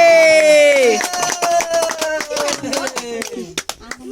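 Hands clap rhythmically and rapidly at a little girl's fourth birthday celebration, the sharp claps ringing out close and loud beneath singing and excited voices.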